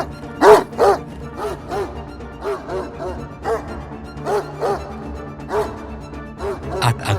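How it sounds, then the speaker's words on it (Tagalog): A guard dog barks repeatedly in the dark, about ten sharp woofs in uneven bursts over several seconds, fairly close and loud with no talking. "Ang tahol nito'y umaabot sa dilim."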